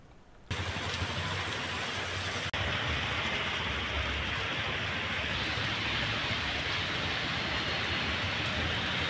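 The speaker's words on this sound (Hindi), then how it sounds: "कर्नाटक के बीदर शहर में भी बारिश का सिलसिला जारी है।" Rain pours steadily on the streets of Bidar city in Karnataka, a dense, loud, continuous hiss that starts abruptly and holds without talk.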